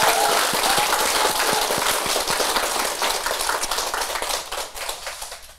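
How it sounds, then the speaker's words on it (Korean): An audience at a Buddhist temple applauds a monk, starting as a thick burst of clapping and thinning into scattered individual claps that fade toward the end. "우리 스님께 큰 박수를 한번 보내드렸으면 좋겠습니다"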